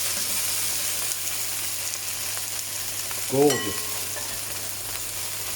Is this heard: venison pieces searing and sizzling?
yes